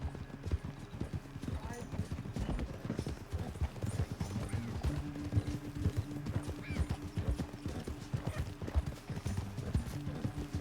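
Horse hooves clip-clop steadily in a Red Dead-style western video game, a close, continuous rhythmic clatter with an occasional whinny, running under people talking throughout.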